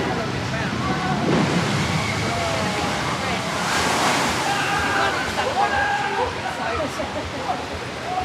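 Tidal Wave water ride boat at Thorpe Park splashing down, a broad rushing slosh of water that swells and fades, heard outdoors with a person talking over it.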